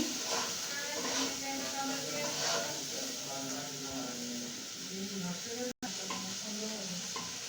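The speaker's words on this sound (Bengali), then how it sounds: "চিংড়ি মাছ আমি পিস পিস করে কেটে নিয়ে সেটা দিয়ে দেবো ভালো করে কষে নিচ্ছি" Cut prawns sizzle and hiss steadily in a hot pan while being stirred and sautéed, a continuous frying crackle with occasional scrapes, and a voice murmuring faintly underneath.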